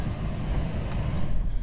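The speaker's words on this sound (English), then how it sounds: "Have to excuse the fan noise because it's really trying to heat this up in here." A steady broadband rush of air blows without pause, low and constant, from the climate control fan on high heating a 2022 Nissan Pathfinder cabin, with no talking.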